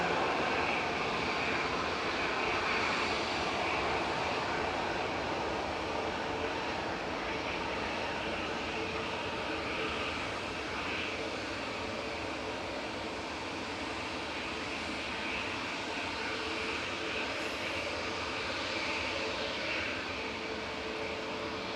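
Continuous broadband roar of Jet2 aircraft engines lining up on the runway at Manchester Airport, a steady, fairly loud drone heard from a distance with no talking over it.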